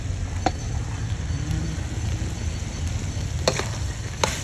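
Carrots tossed into sizzling ground pork with cauliflower in a pan, a steady frying hiss with occasional sharp clinks and scrapes of stirring at close range.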